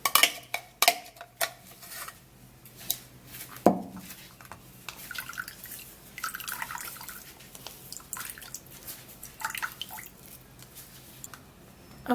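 Blended beetroot juice is sieved in a kitchen, with scattered clinks of a spoon against a metal strainer and bowl amid wet squishing and dripping, irregular and close.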